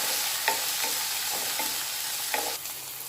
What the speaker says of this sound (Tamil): நெக்ஸ்ட்டு தக்காளி நல்லா வதங்கி வரட்டும்.